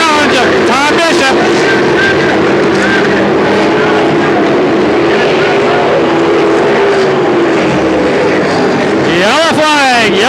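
Race cars at Knoxville Raceway in July 1984 roar around the track as loud, continuous engine noise with rising and falling pitch sweeps as cars pass, while an announcer talks over it throughout.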